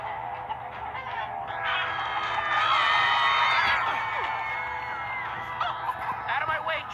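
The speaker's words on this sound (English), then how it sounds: "Out of my way, chickens!" A crowded flock of chickens in a Minecraft: Story Mode game squawks and clucks loudly all at once, a dense, continuous noisy chorus swelling midway.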